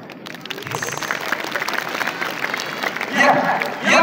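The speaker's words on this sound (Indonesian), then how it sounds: "Boleh tepuk tangan." A crowd at an Indonesian children's magic and history show starts clapping softly and grows louder, swelling into fuller applause near the end, with some voices mixed in.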